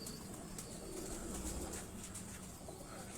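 Tiger and dub breed pigeons coo softly on a rooftop in Johar Town, Lahore, a faint, steady murmur of calls with a few light flutters in the background.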